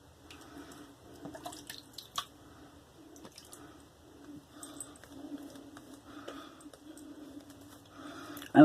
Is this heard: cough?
no